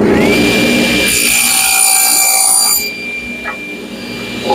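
A table saw cuts a piece of wood guided by a miter gauge, a loud close whine with the blade biting through, then the cut ends and the blade spins down more quietly.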